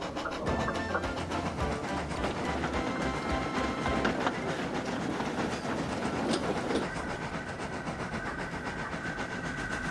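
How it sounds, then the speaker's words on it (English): A toy-style train engine backs its train down a branch line, and the wagons roll past with a steady rhythmic clickety-clack. The rumble is close and continuous, with faint whistle-like tones partway through. "he was surprised to see Thomas backing the train down the branch line"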